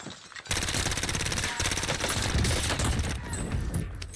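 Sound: CX-9 SMG gunfire in a video game

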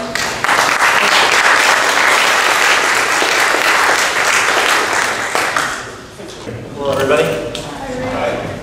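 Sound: audience applause welcoming a speaker

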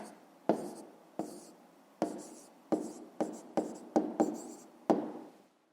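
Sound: writing an answer by hand

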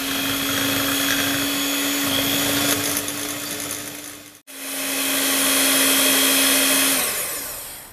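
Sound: electric mixer beating egg yolks with sugar

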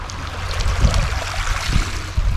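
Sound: small sea waves on a calm morning

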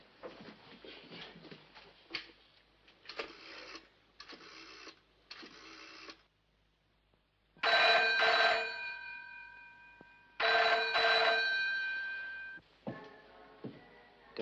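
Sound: telephone ringing on the line

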